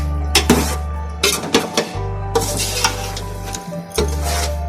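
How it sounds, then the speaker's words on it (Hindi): Potatoes and tomatoes frying in masala in a pan, a steady loud sizzle with repeated scraping and stirring strokes of a spoon against the pot, close up and without talk. "अब मैं इसमें टमाटर डाल दूंगी, आलू डालूंगी और आलू डाल के भूनूंगी।"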